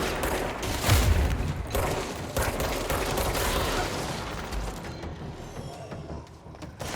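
Dense, loud bursts of shotgun fire in the video game Control, overlapping blasts and booms filling the clip, with the barrage thinning toward the end.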